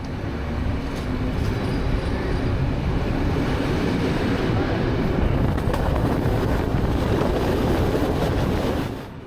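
A Soviet-built Elektrichka commuter train rolls toward Bar station in Montenegro, a loud, constant rumble and rush of wheels and motors heard from inside, easing off slightly at the very end.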